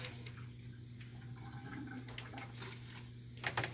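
A container being rinsed out in a bedside commode: faint, close running and splashing water, fairly continuous, with a brief louder splash near the end.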